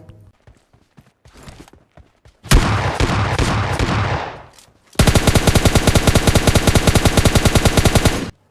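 Gunfire in a shooting video game from an S12 shotgun, with scattered clicks leading into a loud sustained burst, a brief pause, then a long rapid-fire stream of evenly spaced shots, very close and loud.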